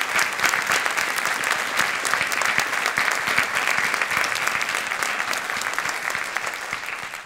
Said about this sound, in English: They deserve a hand of applause.